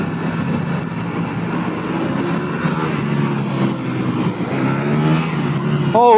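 A 2022 KTM 890 Duke motorcycle under way on the road, its engine droning steadily with a rising pitch as it accelerates, wind noise mixed in, loud and continuous throughout.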